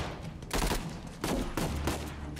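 Shotgun blasts in Uncharted: The Lost Legacy, several heavy booming shots in quick succession with short gaps between them, loud and close, with no talking.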